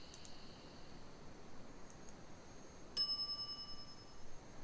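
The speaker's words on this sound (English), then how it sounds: "some idiot's already ringing that stupid bell" A shop counter bell in a video game gives one bright, clear metallic ding with a ringing decay, preceded by faint small chimes, against a quiet hissy background.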